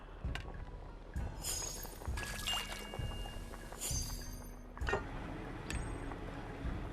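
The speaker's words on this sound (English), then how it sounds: "Dip the teapot in the water bucket to fill it." Water sloshing and pouring as a teapot is dipped into a water bucket in the video game Lost Recipes, a series of short splashy pours separated by clicky game sounds, fairly faint and without talk.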